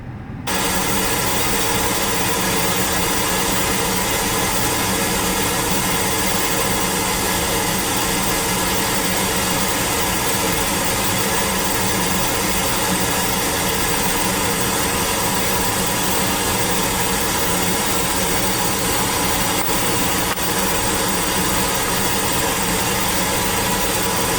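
Steady broadband pink noise test signal fills the whole stretch at constant loudness, a dense rushing hiss with no breaks.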